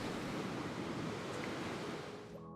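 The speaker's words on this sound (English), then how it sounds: "watching this crashing surf" Surf crashing against the rocky Great Ocean Road coast in Australia, a continuous broad roar of breaking waves mixed with wind, steady and loud before cutting off abruptly near the end.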